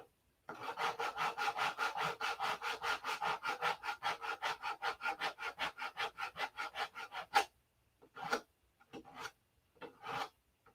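Rhythmic back-and-forth rasping of sandpaper on the wooden fillets of a P-47 model airplane, steady fast strokes for several seconds, then a pause and a few shorter scrubbing bursts, close up.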